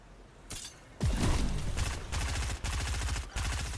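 Rifle gunfire in a video game: a faint shot, then loud rapid bursts of automatic fire in close, sustained volleys with brief gaps between them, no voices over it.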